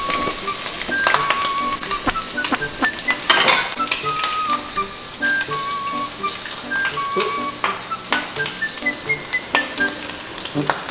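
Dinner frying in a pan in a college kitchen, a constant loud sizzle broken by repeated clinks and scrapes of utensils against the pan, with no talking.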